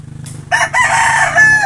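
A loud, nearby rooster with a crooked tail crows one long cock-a-doodle-doo, with a few clucking notes just before it.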